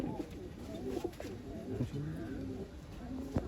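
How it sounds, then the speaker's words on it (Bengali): Purebred pigeons coo in low, rolling, overlapping calls close by, with a voice murmuring faintly in the background. "সব পিওর ব্লাডের পায়রা আছে, সব পায়রা যে নেবে সে গেনার"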